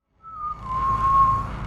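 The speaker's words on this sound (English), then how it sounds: "he's whistling the show's intro while piloting the ship" A single sustained whistled note of an animated show's theme rises briefly and then holds steady, sounding close and clear over a low background rumble.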